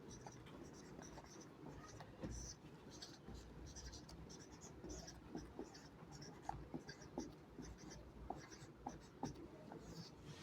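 Chalk or marker scratches across a classroom board in quick strokes while a number is written, a steady series of close scraping taps with low room noise underneath.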